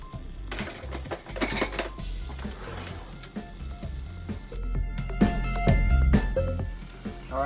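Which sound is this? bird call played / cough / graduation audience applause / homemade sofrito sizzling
homemade sofrito sizzling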